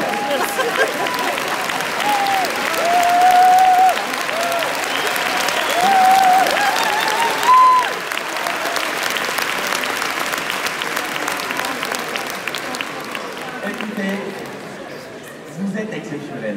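A large seminar audience applauds itself after being told to praise one another, steady loud sustained clapping with crowd chatter and a few whistles throughout, tapering slightly at the end.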